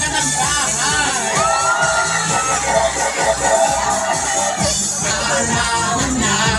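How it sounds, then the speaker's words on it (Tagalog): Crowd at a fiesta show mini concert cheers and whoops steadily throughout, loud and sustained, with shouts over a busy background of music and voices. "Ngayon, ating palakpak"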